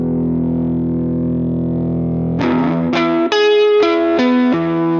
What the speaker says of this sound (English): I'll push up the input gain a little to get that nice crunchy tone.